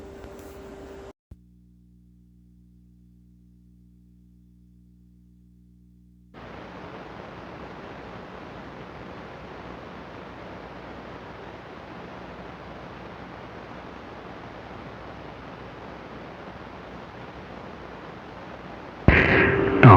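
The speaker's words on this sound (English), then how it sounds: "I just squelched it up so I don't have to hear the static" A Stryker 955 CB radio hisses with steady receiver static once the squelch is turned down. A low hum comes first, then a long, even wash of noise, and a loud burst near the end.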